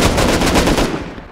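Rapid, loud automatic gunfire bursts out in a dense, continuous volley as players shoot open a compound gate in the video game Rust, then cuts off abruptly.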